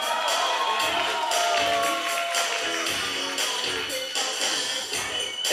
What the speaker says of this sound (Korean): 두 번째 댄서에게 다시 응원의 박수를 부탁드립니다.